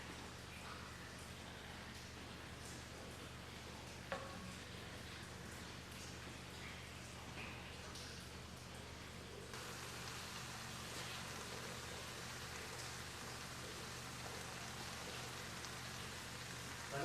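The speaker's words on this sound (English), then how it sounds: "we will fry them until they are golden brown" Urad dal pakoras fry in hot oil, giving a steady hiss and crackle that runs the whole time and grows a little brighter partway through, with no one talking.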